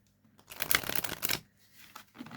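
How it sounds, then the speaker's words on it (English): A deck of cards is riffled in a quick burst of crisp flutter, followed by a couple of soft taps as the deck is squared, close and quiet with no speech. "So I'll give it one quick shuffle again before we start"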